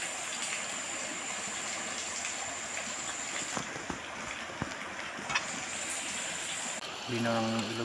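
A clear river flows with a steady broadband rush and gurgle, close by, with a few small splashes and clicks and a voice briefly speaking at the end.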